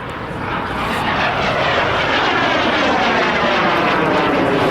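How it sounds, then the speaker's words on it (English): Twin-engine two-seat advanced jet trainer and ground attack aircraft roaring past at a military air show, a loud, continuous broadband engine rumble that swells slightly and holds steady as it passes close by, with no voices. "is a two-seat twin-engine advanced jet trainer and ground attack aircraft"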